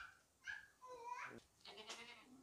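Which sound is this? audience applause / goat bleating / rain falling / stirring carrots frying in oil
goat bleating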